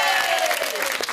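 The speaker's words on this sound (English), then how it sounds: "Give her a round of applause." Studio audience applause, a short dense burst of clapping with voices over it.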